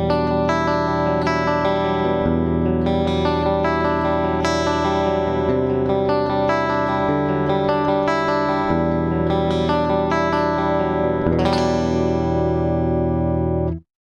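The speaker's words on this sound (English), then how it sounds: "Let's have a listen to what the compressor does" Clean electric guitar through a studio feedforward compressor set to an 8:1 ratio, running on a Fractal FM3 for an 80s-style clean tone: loud, strummed chords with heavily squashed, even sustain ringing steadily from start to finish, no talking.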